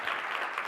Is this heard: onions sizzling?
no